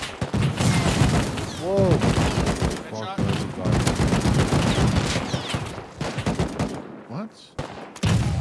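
Gunfire in the survival video game Rust crackles in rapid, dense bursts that fill most of the stretch, with brief gaps, while players exclaim over the shooting.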